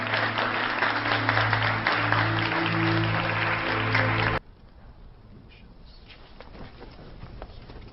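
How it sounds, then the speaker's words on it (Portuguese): Dense applause honoring Davos fills the first half, with a low sustained tone beneath it, then cuts off abruptly to a quieter ambience with scattered faint sounds. "Agora acho que devemos homenagear Davos com um aplauso muito bem merecido."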